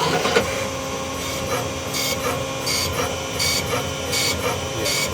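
A CNC lathe threading a brass part at 2000 RPM: steady close machining whir with a dense rasping, scraping texture and recurring brief high hissy bursts as the tool passes, continuous and fairly loud with no talk.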